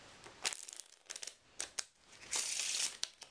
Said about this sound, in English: let's give it one last shuffle.